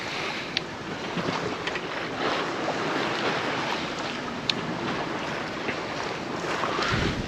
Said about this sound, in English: Swell's picking up.